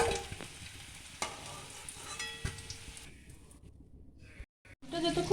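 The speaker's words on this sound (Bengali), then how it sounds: "এই সেম প্রসেসে আমি অন্য আলুগুলোকেও ভেজে নিচ্ছি" Potato pieces frying in oil for aloo dum give a close, busy sizzle with stirring scrapes, which fades to a quieter crackle and a brief near-silence before picking up again.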